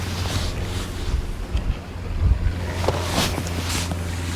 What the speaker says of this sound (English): Wind's changed direction, it's blowing that way, it's coming towards me now